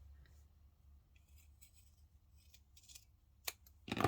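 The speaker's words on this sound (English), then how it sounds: "with my scissors I just snip that out of the way." Scissors snip through fabric while a bowl cozy is being sewn, giving a few soft, quiet cuts and then a sharper, louder snip near the end, with no voices over them.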